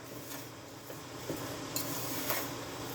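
Walnut and cinnamon baklava filling being stirred in a bowl, a steady soft granular scraping with a few light clinks of the spoon against the bowl, close and quiet.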